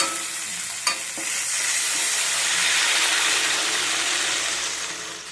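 Water poured onto hot fried spice paste in a pan sets off a loud, broad steaming hiss right after a brief clunk, swelling then gradually fading over several seconds with no voice present.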